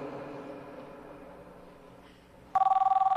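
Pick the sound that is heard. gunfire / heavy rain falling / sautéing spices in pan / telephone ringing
telephone ringing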